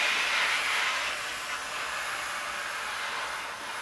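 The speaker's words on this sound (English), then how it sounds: "the best thing about using a steam iron is you only need to iron the one side" Steady, close hiss of steam from a steam iron pressing trousers on a flat surface, continuous and fairly loud with a slight dip near the end, no voices.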